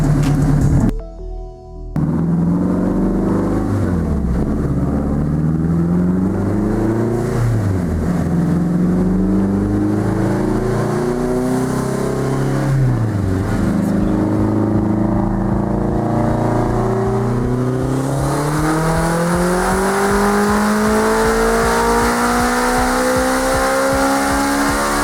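A car with a newly fitted turbo engine doing power pulls, loud and close: the engine rises and falls through repeated rising revs, with the pitch climbing steadily over each pull and a strong, continuous roar.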